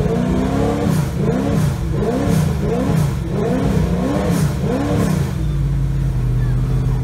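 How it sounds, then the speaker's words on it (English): A Brabham BT62 race car at the Goodwood Festival of Speed, driven by David Brabham, revs hard in repeated rising and falling bursts, loud and close, then settles to a steady idle. "David Brabham, the son of the great Sir Jack, is here driving the Brabham BT62."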